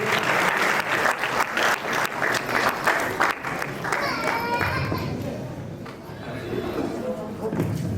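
Audience applause at a ceremony honouring guests, sustained clapping from a crowd mixed with voices and background bustle, fading into murmuring and talk near the end.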